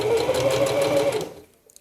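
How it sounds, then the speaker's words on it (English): A sewing machine runs steadily, stitching a fabric dog coat with a continuous close whir, then stops and fades to near silence with a faint click at the end. "I'm just gonna continue the stitching"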